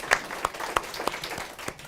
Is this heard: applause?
yes